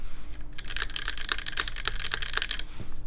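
Keys clack in a quick, steady run on a custom Impulse Boards Kangaroo mechanical keyboard, close and crisp over a low background hum.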